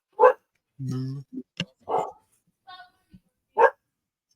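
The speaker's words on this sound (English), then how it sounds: "Why are you barking?" Bo, a pet dog, barks in three sharp, separate yaps, near and fairly loud, with a brief murmured voice and soft rustles in the gaps.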